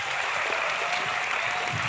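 Continuous applause from a large audience at a university festival at Kurukshetra University, a dense, even wash of clapping that holds steady throughout.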